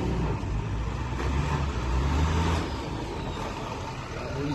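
A truck engine in Haiti is being warmed up, giving a continuous, close, low rumble that swells slightly midway without pausing.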